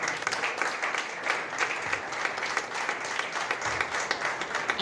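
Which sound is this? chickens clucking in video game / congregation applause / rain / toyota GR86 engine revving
congregation applause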